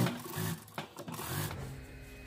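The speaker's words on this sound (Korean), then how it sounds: "이쪽에 있으니까 스티치 놓습니다." A sewing machine stitches a seam on a one-piece dress in short, close mechanical bursts of rapid clattering with brief pauses between runs.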